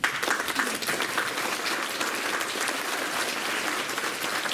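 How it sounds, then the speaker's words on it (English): Applause from an audience at a UFO Truth Magazine conference lecture in 2015, a full, steady burst of many people clapping that stays even in loudness for its whole length. "Give yourself a round of applause."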